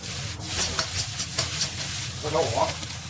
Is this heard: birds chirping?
no